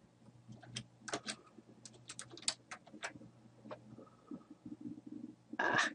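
Quick, irregular clicks of computer keys being typed in short bursts, close and fairly quiet, with brief pauses and a louder clatter near the end, while an email address is entered.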